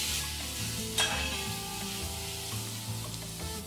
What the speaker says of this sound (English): now let's fry this for another 2 to 3 minutes